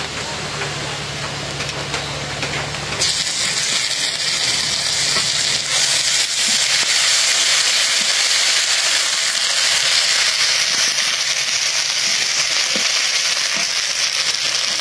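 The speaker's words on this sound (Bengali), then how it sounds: "পেঁয়াজ কাঁচামরিচটা একটু ভাজা ভাজা করলাম" Onions and green chilies sizzle loudly in hot oil, a steady crackling fry that swells after a sudden start, with occasional stirring scrapes.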